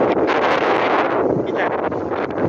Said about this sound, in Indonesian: Angin di sini cukup kencang.